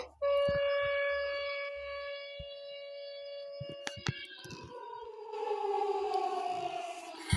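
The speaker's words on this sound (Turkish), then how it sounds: "Çok kötü siren sesi." A steady wailing siren tone holds for several seconds, then slides downward in pitch, with scattered clicks and knocks nearby.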